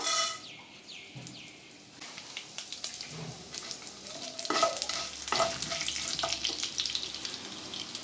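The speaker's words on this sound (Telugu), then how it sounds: "ఇదిగోండి తాలింపు గింజలు వేద్దాం" Tempering seeds hit hot oil for a Telugu toor dal chutney, a quiet start swelling into crackling, popping sizzle with stirring scrapes against the pan, close, while a rooster crows faintly in the background.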